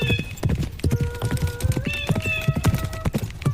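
Horse hooves clip-clop in a quick, steady rhythm, joined by tonal whinny-like calls or music over the top.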